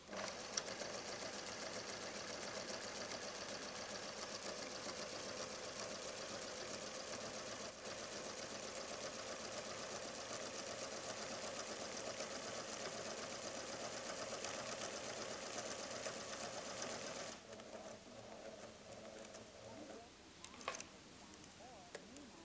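A PFAFF creative 1475 CD embroidery sewing machine stitching out a design, giving a steady, fast mechanical whir with a dense ticking texture for about seventeen seconds before it changes, heard on an old VHS tape.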